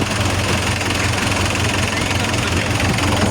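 A DF 404 tractor engine runs steadily close by, giving a loud, continuous mid-to-low diesel clatter with a slight knocking pulse throughout.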